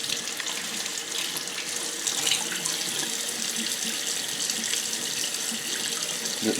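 A kitchen tap runs steadily and loudly as a cleaned greenling fish is rinsed under the stream, with a continuous hiss of flowing water and no speech.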